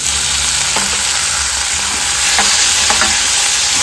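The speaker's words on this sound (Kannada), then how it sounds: "ಎಲ್ಲವನ್ನು ಚೆನ್ನಾಗಿ ಫ್ರೈ ಮಾಡ್ಕೋಬೇಕು" Tomatoes fry in a pan for a Kerala-style red chutney, a loud, steady sizzle with a few soft scraping strokes of stirring spread through it.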